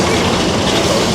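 Roller coaster train at a Six Flags Great Adventure amusement park rattling along its track, a dense, steady, loud rumble and clatter with no voices.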